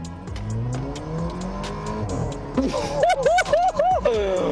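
An SUV engine revs hard under sudden acceleration, rising from a steady drone into loud, repeated climbing surges close by, with people talking over it.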